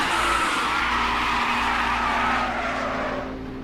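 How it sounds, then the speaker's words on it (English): A race car on the Road America circuit in a racing video game spins and skids, its engine droning with a sustained tire scrub that fades as the car slows, with no talking. "Christian spins it in the middle of the track."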